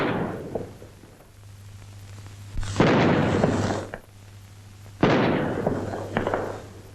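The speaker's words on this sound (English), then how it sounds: "At the Tower, the salute is fired by the Honourable Artillery Company." Gun salute fired by the Honourable Artillery Company at the Tower of London: two sharp booming reports a couple of seconds apart, each trailing off into echo, over a low steady hum.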